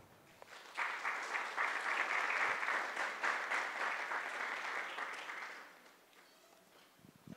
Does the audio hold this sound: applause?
yes